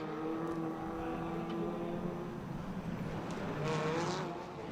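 A rallycross car losing power rolls slowly along the course, its engine a steady low drone with faint rising and falling harmonics, continuous and moderately loud throughout.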